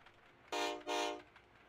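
Two loud locomotive horn blasts in a Roblox train game, a short one followed by a longer one, sound over quiet background, then fade out.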